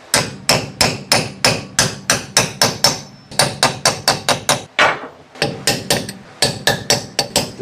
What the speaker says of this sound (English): Just keep trying to work it with the center punch.